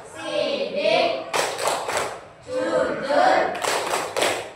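Children at an Indonesian religious lesson clap in rhythmic bursts while chanting together, their voices and claps alternating in a lively call-and-response pattern.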